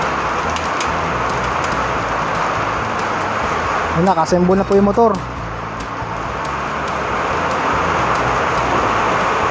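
Dense, loud rain pours continuously while someone speaks briefly midway, with a short vehicle-like rumble under his words.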